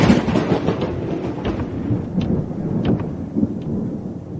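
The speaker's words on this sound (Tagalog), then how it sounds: "Hindi pa ako natatapos sa pagsasalita nang biglang kumulog." Deep rolling thunder rumbles through a storm with steady rain, loud and continuous throughout, with no voices.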